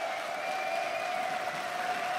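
Steady applause from an esports arena crowd before a League of Legends EU LCS Summer 2015 match between SK Gaming and Elements. It forms a continuous, even wash of clapping throughout, with a faint tonal hum underneath.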